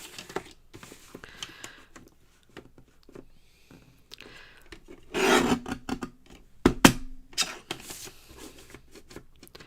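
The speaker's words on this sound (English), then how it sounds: "I need to trim this card down." A paper card base for a handmade card is trimmed with a cutter, giving scattered rasping slides and soft taps, with a louder scraping stretch midway, close and otherwise quiet.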